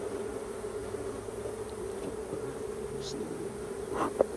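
Honey bees in a hive raise a loud, steady buzzing drone throughout, with a few brief knocks and handling noises near the end.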